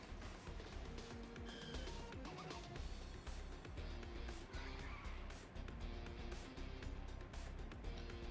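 Tires skid and squeal on a car in the video game Death Roads: Tournament, a Dart Hot Rodent driving among roaring engines with crunching impacts, loud and continuous.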